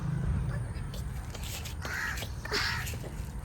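A crow caws a few times outdoors near a village cooking spot, with short calls around the middle of the clip over a steady low rumble and faint background activity.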